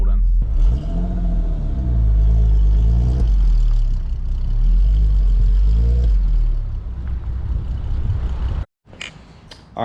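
A VW Golf MK5 R32 is driven into a garage, its engine rumbling loudly with a couple of revs rising and falling before it cuts off abruptly near the end. A voice speaks over the engine.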